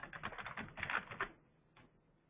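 Rapid, light keystrokes on a computer keyboard fill the first second and a half, closely miked and quiet, followed by one last isolated tap after a short pause.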